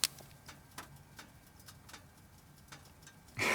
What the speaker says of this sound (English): let's listen to that typical BMW like ticking noise after you've driven your car hard